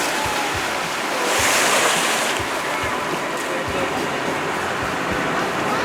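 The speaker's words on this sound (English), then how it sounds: "it was time to splash down for a cruise on the Wisconsin River." An amphibious boat splashes down into the Wisconsin River, a steady broad wash of rushing water and wind with a swell of splashing around the second mark.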